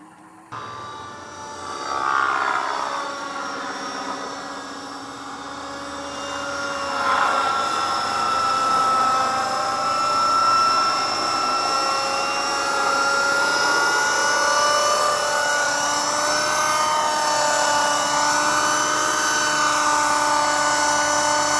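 A T-REX 600 radio-controlled helicopter hovers nearby with a loud, steady high-pitched rotor and motor whine that rises in pitch as it spools up and then holds, with no voices.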